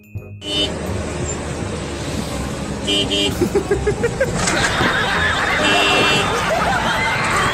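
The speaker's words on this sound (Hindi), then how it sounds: "पीछे कार वाला हॉर्न मारता है" Car horn honking behind a motorbike in traffic, short toots over running engines and road noise, fairly close with people talking over it.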